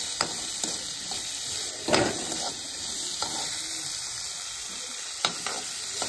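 Onions frying in a pan for a clam dish, a constant bright sizzle with occasional scraping stirs and a louder clatter partway through, close and steady with no voices.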